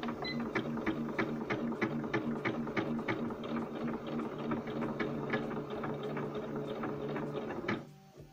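A Singer SC220 sewing machine stitches decorative letter patterns, running with a steady, rapid mechanical chatter up close for several seconds before it stops.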